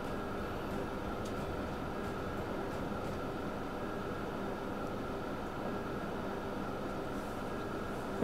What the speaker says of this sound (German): Wir beschleunigen die Tunnelfahrt mal ein bisschen